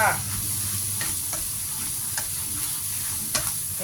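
Rice noodle rolls stir-fried dry in a pan with vegetables, giving a constant close sizzle with occasional soft scrapes and taps from the spatula, no voices.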